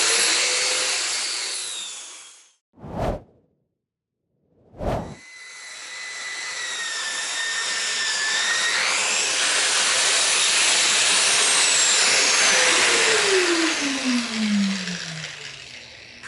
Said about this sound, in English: part of what I'm doing with the sander is, as I said, I'm taking out machine marks